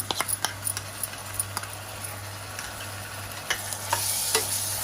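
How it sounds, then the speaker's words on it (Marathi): Onion already golden brown being stirred in a pan with ginger garlic paste for a Koli-style prawn masala, giving a steady low sizzle with repeated scraping and clinking of the spoon throughout, no talk. "आता याच्यामध्ये आपण आलं लसणाची पेस्ट टाकूया."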